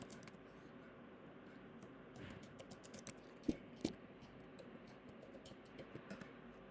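Soft computer keyboard typing as a login ID and password are entered, a quiet run of light key clicks with a couple of sharper taps, close and alone.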